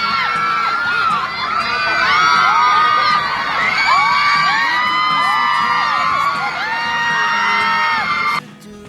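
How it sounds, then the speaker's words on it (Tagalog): Fans scream and cheer as two celebrities step out of a vehicle at a Walk of Fame event, a loud, dense crowd of high shrieks and whoops sustained throughout before cutting off abruptly near the end. "Pagbaba pa lang ng dalawa sa sasakyan, hindi na magkamayaw ang sigawan ng kanilang mga fans."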